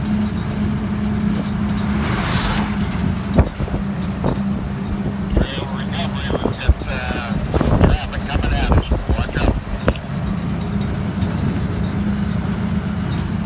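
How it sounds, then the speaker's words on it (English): A truck and trailer passes on a highway, its rumble and rush swelling near the middle and then fading, heard from a moving vehicle through constant wind noise and engine drone. "Copy, truck and trailer just passed."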